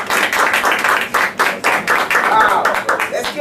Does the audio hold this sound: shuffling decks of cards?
no